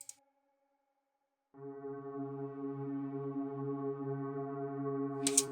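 Warm synth pads, pitched an octave down in FL Studio, swell in after a short silence and hold a steady sustained chord, with a faint click at the start and a brief burst near the end.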